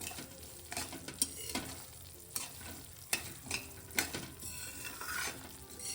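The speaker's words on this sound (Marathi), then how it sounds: "रवा आपल्याला इथे कमी गॅसवरच भाजायचा आहे। बघा किती छान खरपूस भाजतोय" Semolina (rava) roasting in ghee over a low flame, stirred steadily in the pan, with a soft continuous sizzle and scraping strokes of the spoon close by and repeated throughout, with no talking.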